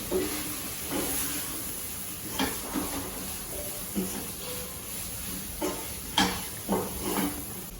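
Grated coconut with drumstick leaves, banana flower and chana dal sautéing in a pan for a Tamil poriyal, a soft steady sizzle broken by scattered spatula scrapes and stirs.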